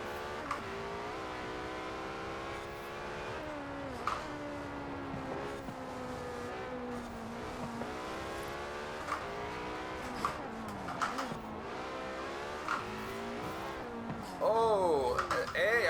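Race car engine in Forza Horizon 4 revs up and down through the gears, a steady loud game engine drone with repeated pitch sweeps and short bursts near the end, under occasional talk.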